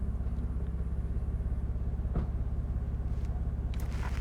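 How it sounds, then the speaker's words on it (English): A Mercedes SL R230 engine runs at a steady low idle, a soft even rumble with faint rhythmic pulsing and a few small clicks, heard close but at low volume with no talk. "Let's start the car"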